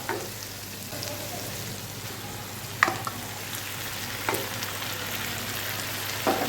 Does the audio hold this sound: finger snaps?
no